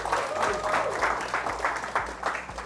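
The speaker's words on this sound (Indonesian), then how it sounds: "Tepuk tangan buat teman-teman kalian berdua ini." Classmates applaud two students in a university classroom, with a few seconds of moderate, fairly rhythmic clapping from a small group, no voices over it.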